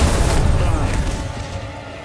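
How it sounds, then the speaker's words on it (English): An ion grenade explodes in a superhero TV episode of The Flash, a loud deep boom with rumbling low-end that slowly fades over two seconds, with no talking over it. "An ion grenade just bombarded your cellular structure with enough ions to destabilize your matrix."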